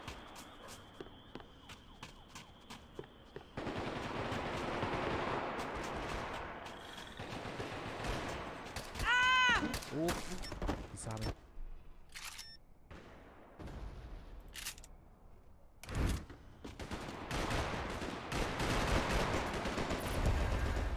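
Gunfire in a Max Payne 3 multiplayer match, scattered shots and short bursts over a steady background bed, with a ringing tonal sweep partway through and sharper isolated cracks later.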